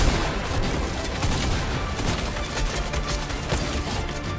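Sniper rifle fire in Fortnite, with sharp gunshot cracks amid dense, steady battle noise that stays moderately loud throughout, a rapid scattered volley with no clear isolated shot.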